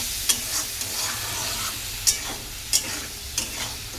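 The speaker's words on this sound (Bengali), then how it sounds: "এবার একটু জল দেবো, দিয়ে মশলাটাকে কষাবো" A spice paste of salt, turmeric and chilli powder with potato, tomato and a splash of water is stir-fried in a pan, with repeated spatula scrapes at uneven intervals over a steady sizzle.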